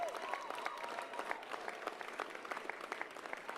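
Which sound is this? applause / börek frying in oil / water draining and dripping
applause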